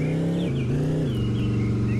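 A Bumblebee car driven in the video game Dude Theft War gives a steady engine drone that steps down in pitch a couple of times as it cruises, close and continuous with no talk.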